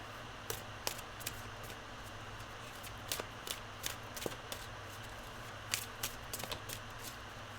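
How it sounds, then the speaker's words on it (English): Tarot cards are shuffled quietly by hand, a soft steady riffling with scattered sharp flicks and snaps standing out at irregular moments, with no voices. "I like to shuffle until something flies or flips out."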